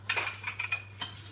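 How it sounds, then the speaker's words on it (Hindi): A spoon clinks and scrapes in a pan while ghee tempering with fennel seeds and red chillies is stirred, with several sharp metallic taps over a low steady hum. "3 मिर्चों का छौंका दे रहे हैं। एंड इसको हम चलाएंगे"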